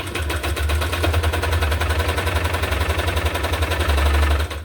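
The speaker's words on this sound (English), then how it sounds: "I will just sew on here with zigzag stitch again" A sewing machine runs a zigzag stitch across a hardcover junk journal, a fast steady mechanical chatter with a low motor hum, continuous and close for several seconds before stopping.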